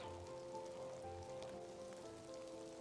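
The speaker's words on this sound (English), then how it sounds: "It's still raining." Steady rain falls outdoors, a continuous soft hiss of drops on surfaces under a low constant hum, moderately faint and even throughout with no talking.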